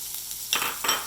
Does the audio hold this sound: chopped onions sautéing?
yes